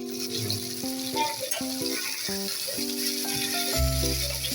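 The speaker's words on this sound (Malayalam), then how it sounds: "ഇത് ഫ്രൈ ചെയ്തെടുക്കുക ചിക്കൻ" Chicken pieces pan-fried in shallow oil on a tawa, giving a steady close sizzle with light rattling and stirring. A low thump lands near the end, and nobody speaks.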